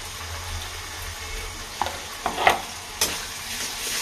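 Green peas fry in hot oil with ginger paste, yogurt, boondi and asafoetida in a steady close-up sizzle, with a few spoon scrapes and stirring clacks.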